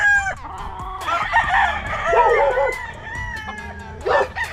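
Fighting roosters crow loudly and close by, several calls overlapping, with clucking chickens in between and no speech.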